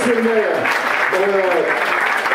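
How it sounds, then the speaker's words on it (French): Crowd applause rises at an athletics meeting during a men's 5000 m race, steady broadband clapping with voices over it. "Vos applaudissements"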